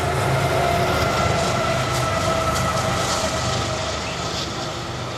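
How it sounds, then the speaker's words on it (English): A train rumbles past close by, a sustained loud roar with rattling metallic tones that begins to fade toward the end; no talking. "We're gonna wait for this train to go by real quick."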